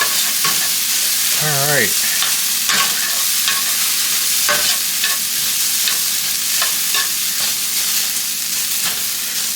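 Onion, garlic and shallots sizzle and crackle steadily in a hot pan while being stirred, a continuous frying hiss with occasional scraping, and a voice speaks briefly early on.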